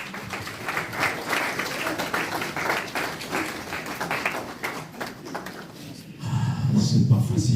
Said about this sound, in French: Est-ce qu'on peut acclamer?